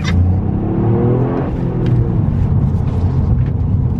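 A 257 bhp Toyota GR Yaris engine rumbles steadily and builds as it accelerates, a continuous low drone heard from inside the car.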